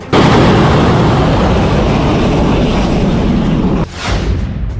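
A loud missile-strike explosion during the Iran–Israel conflict swells into a dense, rumbling roar that fills nearly five seconds before abruptly easing into a quieter tail.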